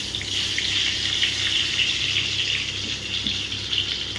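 Chopped onions hitting hot oil in a pan for mutton kosha, with a loud, steady sizzle that holds evenly throughout and no voices.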